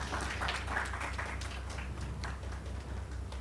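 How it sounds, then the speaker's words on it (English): An audience at the India Analytics and Big Data Summit in Bangalore applauding, a fairly faint, diffuse patter of many hands clapping that holds steady throughout. "Round of applause."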